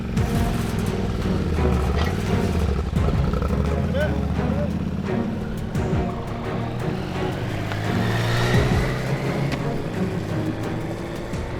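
A Yamaha Ténéré 700 motorcycle ridden on a coastal road, its engine a steady loud drone with wind rush throughout, the pitch rising and falling slightly as the bike moves along.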